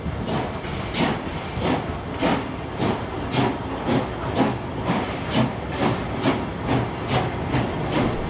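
36-class locomotive 3642 hauls a passenger train between Hurstville and Loftus, New South Wales, with loud, evenly spaced chuffing beats about once a second over a steady hiss and rolling rail noise, close and sustained.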